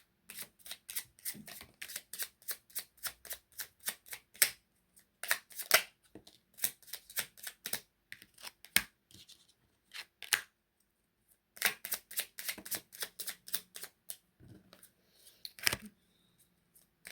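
Small oracle cards are riffled and shuffled close up in quick crisp bursts of rapid flicking clicks. Several bursts are separated by short pauses and softer single card snaps as cards are drawn.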